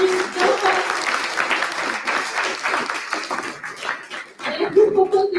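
An audience claps at the close of a weekend hackathon event, dense applause filling the room continuously for several seconds, with a few voices and light laughter mixed in near the end.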